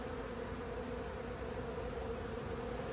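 Honey bees swarm around the side of a hive during a mite infestation, making a dense, steady buzz of many insects close by, with constant drone and no voices.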